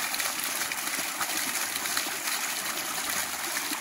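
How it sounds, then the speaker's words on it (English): Steady, continuous rush of water gushing out of a micro hydro system's drain discharge line, close and loud, a broad unbroken splashing hiss with no talking. "This is where our hydro drain line comes out."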